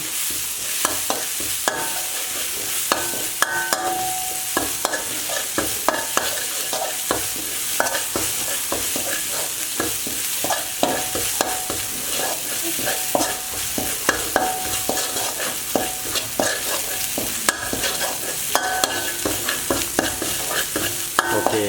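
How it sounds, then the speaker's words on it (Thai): Pounded coriander root, garlic and pepper are stir-fried over low heat, with a loud continuous sizzle and rapid, repeated clattering of a spatula against the pan, close up and without talk. "นำรากผักชีกระเทียมพริกไทยที่เราตำไว้ลงผัดนะครับ ใช้ไฟมาอ่อนนะครับผัดให้หอม"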